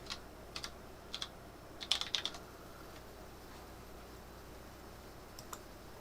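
Sparse keystrokes on a computer keyboard, a few scattered single clicks and a quick cluster of taps in the middle, close and dry over a quiet steady room hiss.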